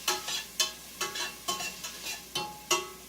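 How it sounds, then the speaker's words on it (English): Hot oil sizzles in a soup pot for chicken tortilla soup while a spoon stirs it in steady rhythmic strokes, each scrape clear and close over a soft fry. "Give it a stir, get the smells going, the oil's releasing"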